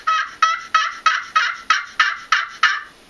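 A Spursuader custom turkey call is worked fast, giving about nine sharp, evenly spaced yelps in a quick rhythmic run, close and clear with no talking.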